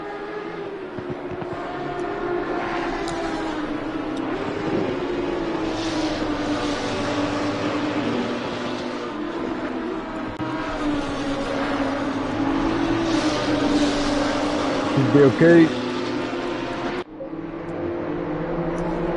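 BMW M2 race cars at Watkins Glen in a racing video game, engines droning continuously as several cars run close together, with brief shifts in pitch and a short voice.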